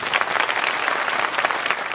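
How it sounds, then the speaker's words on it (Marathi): Audience applause in a Marathi devotional satsang gathering, a dense steady wash of many hands clapping loudly and continuously throughout. "एकदा जोरात टाळ्या वाजवा"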